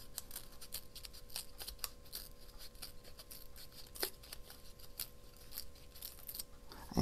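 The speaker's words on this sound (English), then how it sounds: "I think I'm going to tear around this a little." Paper being torn by hand around a picture for a small scrapbook cluster embellishment, a string of close, crisp rips and rustles with little pauses, no talking.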